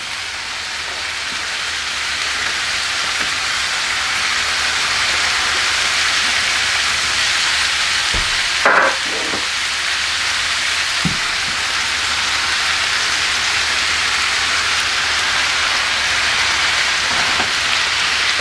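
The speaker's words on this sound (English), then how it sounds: "I'm going to add a little bit more oil. Add the onions and the mushrooms." Onions and mushrooms frying in oil in a skillet, a loud, steady broadband sizzle that continues throughout with a few faint clanks partway through.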